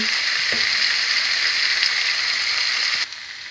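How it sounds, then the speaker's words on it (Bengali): Potatoes frying with chicken in a pan give off a loud, dense, continuous sizzle up close, with a couple of brief clanks, before the hiss drops a little near the end. "এখন আমি আলুগুলোকে দিয়ে দিচ্ছি।"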